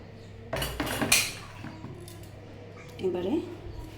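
A kitchen knife cuts through a peeled cucumber with two close, crisp chopping knocks, followed by fainter scraping and a softer tap against the board a couple of seconds later.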